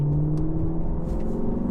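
The V8 of a Lexus LC500 with a 10-speed automatic hums and whirs smoothly as it pulls forward, a steady mid-pitched drone heard from inside the car.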